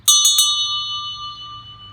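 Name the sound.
hand-rung school bell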